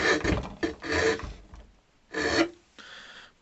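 A Lidl Japanese pull saw rasps through wood in several short, separate bursts of strokes, close up and fairly loud, with brief pauses between them and no talking.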